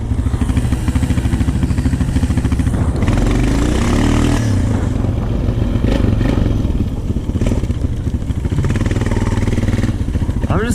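A Honda TRX450 ATV putters at idle through snow, its engine a loud, steady, close-up thrum with some clatter and a brief rise in revs near the middle.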